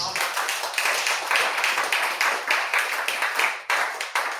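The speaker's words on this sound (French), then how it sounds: "Acclamons le Seigneur Jésus." A church congregation applauds, with dense, steady clapping from many hands that fills the space and keeps going almost without a break, a few louder surges rising and falling throughout.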